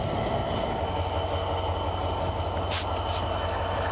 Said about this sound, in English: there's a massive freight train waiting to go over the viaduct